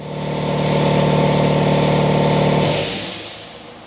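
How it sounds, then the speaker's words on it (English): An air compressor in a garage runs with a loud, steady mechanical hum, then cuts off with a sharp hissing release of air that fades away near the end. "now that the air compressor is kicked off"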